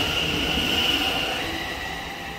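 A Thameslink Class 700 electric train departs a station at Potters Bar, giving a steady close rumble with a high whine that slowly eases as it pulls away.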